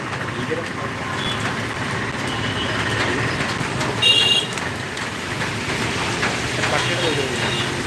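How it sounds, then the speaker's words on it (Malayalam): Heavy rain pours steadily in Kottarakkara, a dense broadband hiss that holds for the whole stretch, with passing vehicle noise mixed in and a brief louder burst midway. "കൊട്ടാരക്കരയിൽ നല്ല ശക്തമായ മഴയാണ് പെയ്തുകൊണ്ടിരുന്നത്"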